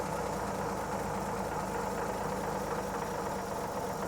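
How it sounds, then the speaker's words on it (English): Steady engine idle after the idle speed is turned back down to about 465 rpm, a constant close hum with a low, even pulse and no talking. "It's idling a bit high still"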